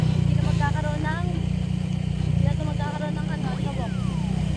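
A motorcycle engine runs steadily and loudly up close with a constant low drone, while a person talks over it throughout.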